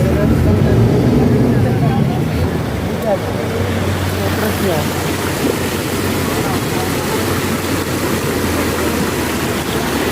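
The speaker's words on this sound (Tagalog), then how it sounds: "Medyo malakas yung agos dito." A strong river current rushes loudly and continuously close by, a steady broadband roar of churning water that never lets up, with voices faintly mixed in beneath it.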